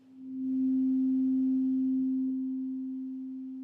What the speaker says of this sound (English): regular vanilla sine wave oscillator